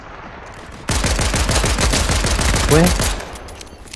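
Shooting in a Bedwars game, a quick loud stream of evenly spaced shots starting abruptly and stopping after about two seconds, with a brief voice among them.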